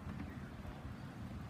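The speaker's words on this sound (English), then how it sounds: "There's some gusts coming through that are bad." Gusting wind at an outdoor farmers market, a steady broad low rumble of wind buffeting the microphone, fairly loud and continuous throughout with no other clear sounds.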